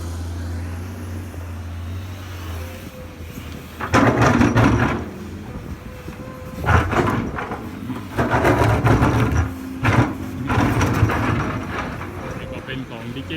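A Komatsu PC210-10M0 excavator working hard rock: a loud diesel engine idles, then surges repeatedly into heavy revving bursts under load, with clanking and scraping close by, and someone talks over it.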